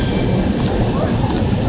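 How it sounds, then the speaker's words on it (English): A street tram passing close by in a city, a loud steady rumble of wheels on rail with faint squeals and clicks running throughout. "And there's another tram coming."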